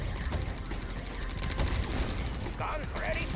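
Machine gun fire in Red Alert 2, rapid bursts of shots crackling under dense battle noise, with unit voice lines layered over the gunfire.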